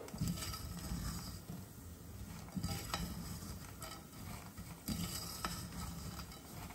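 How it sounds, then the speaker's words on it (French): Pistachios are stirred through crystallizing sugar in a pan, giving a steady, quiet scraping and rustling with a soft sizzle underneath. Brief louder sweeps of the utensil recur throughout. "Jusqu'à ce que mes pistaches soient complètement enrobées de sucre et qu'elles cristallisent comme ceci."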